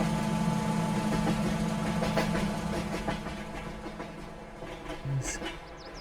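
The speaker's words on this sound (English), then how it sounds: "I think I hear the train." A train passes in a farming simulation game, heard as a steady low rumbling engine drone with faint rhythmic clatter that gradually fades. A few brief higher sounds come near the end.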